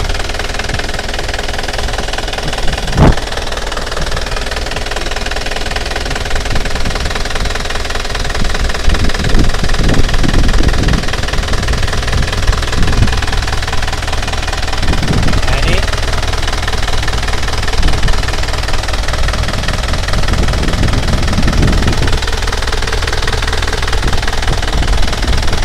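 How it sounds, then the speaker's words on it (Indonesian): Diesel engine of a 2008 Isuzu Panther LV Turbo idling nearby with a rough, knocking rumble, occasionally revving louder in short bursts, steady throughout. "Wajar mesin diesel kayak gitu."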